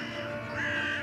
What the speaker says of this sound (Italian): Le cornacchie.